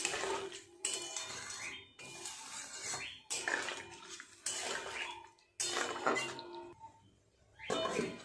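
Water being added to a pot of paneer curry in a home kitchen, heard as bursts of splashing and clattering pot and utensil noise in several separate pulses, close and fairly loud, with no talking.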